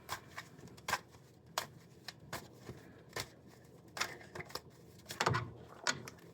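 Tarot cards shuffled by hand in a quiet room, a run of crisp riffling snaps and soft slaps in an uneven rhythm, close and clear, with no talking.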